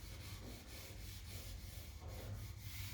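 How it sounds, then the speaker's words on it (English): A cloth wipes grey wash lightly across a mahogany tongue and groove board, giving a steady, soft rubbing swish close by that stays fairly quiet and even throughout. "I'll start in the middle of the board and I'll wipe a little bit this way pretty lightly"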